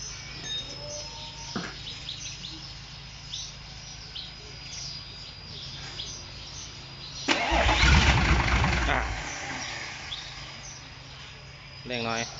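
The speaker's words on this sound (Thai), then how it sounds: "ลองมาสตาร์ทดูครับว่าจะติดไหม" A repaired engine is cranked and catches, with one loud rough burst lasting a couple of seconds before it drops away. Birds call faintly in the background, and voices are heard around it.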